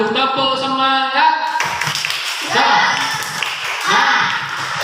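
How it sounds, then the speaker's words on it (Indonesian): A primary school class claps out the rhythmic tepuk semangat pattern, sharp patterned hand claps with children's voices chanting and talking over them, close and loud. "kita tepuk semangat dulu"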